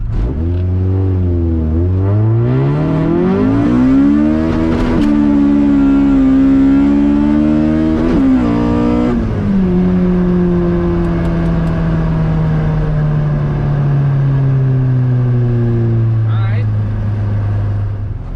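A Honda CRX with an all-motor B17 engine pulls hard through the gears, rising pitch climbing and dropping at each shift, loud and close from inside the car, ending in a long steady cruise.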